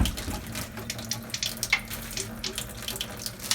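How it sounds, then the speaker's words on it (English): Steady water running from the tap of a water ionizer machine into a small container, a continuous close splashing stream throughout with no speech. "So we'll just collect a little bit of water in here."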